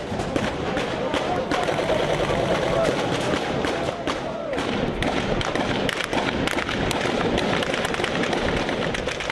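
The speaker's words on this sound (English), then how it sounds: "There's a massive amount of smoke and an awful lot of firing." Heavy gunfire in a battle in Misrata, Libya, a dense, continuous clatter of shots and bursts from nearby, with explosions thudding through and amid thick smoke.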